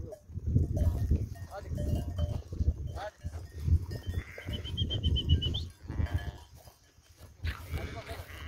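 A flock of sheep driven slowly downhill by a shepherd, with bleating, shuffling hooves and a faint cowbell close by, voices talking over the animals throughout.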